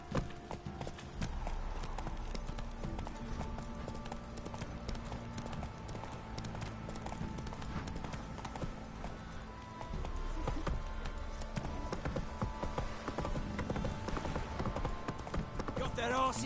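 Roach the horse gallops in The Witcher 3, a fast, steady clip-clop of hooves running throughout at close range, with someone speaking over the hoofbeats and background music underneath.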